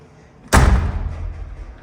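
A door slams shut with a sharp, loud thud, its boom lingering and fading over the next second indoors.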